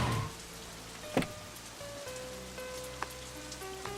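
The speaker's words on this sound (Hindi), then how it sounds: "बारिश आ गई है, चलो।" Rain falls steadily on a surface in an outdoor film scene, a soft continuous patter with a few brief louder drops and faint background music tones.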